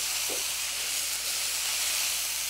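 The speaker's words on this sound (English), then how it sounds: "Smell that nice vegetable cooking." Vegetables for a creamy Thai rice soup (jok) cook in a pot, giving off a continuous, even steamy hiss close by, with two faint clinks and no speech.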